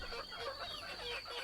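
Domestic chickens, a larger young flock of village fowl, clucking in short overlapping calls over a steady background hum, fairly close and continuous.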